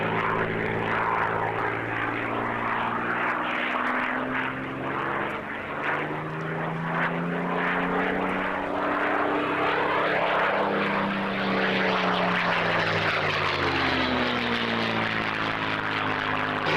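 A propeller-driven airplane drones steadily overhead as it descends to land, a loud continuous engine hum whose pitch slowly rises and falls over several seconds.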